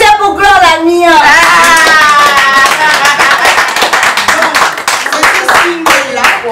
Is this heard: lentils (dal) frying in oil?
no